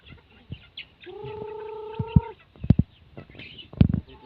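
Backyard chickens cluck in short, scattered bursts close by, with a rooster letting out one drawn-out crow partway through.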